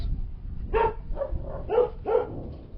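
A dog gives a series of five short, soft barks or yips at an uneven pace, fairly close, with no talking.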